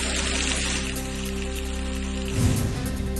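Steady, dense rain hiss of a heavy downpour in Amboli, Sawantwadi, fills the clip with a low constant hum underneath and a brief louder swell near the end; no voices.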